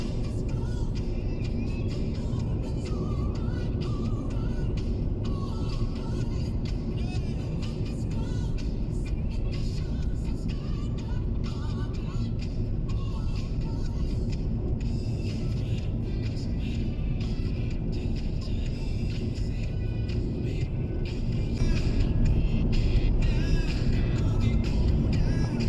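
A car cruises along the A9 autoroute in southern France near Nîmes, giving a steady, loud interior road rumble with tyre roar that holds constant throughout, rising slightly toward the end.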